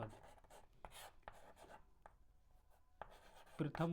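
A pen scratches across paper while someone works through a class 10 arithmetic progression problem, producing quiet, irregular strokes and taps with short pauses between them.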